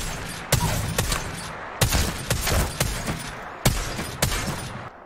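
Shotgun blasts in Apex Legends, Season 9: several loud, sharp shots spaced a second or so apart, each trailed by rattling mechanical handling noises, with no voices.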